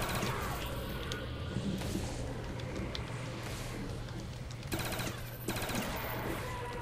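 Dense automatic gunfire crackles almost continuously in Call of Duty: Black Ops Zombies, a busy wash of rapid shots and impacts with a low steady hum underneath and brief gaps between bursts.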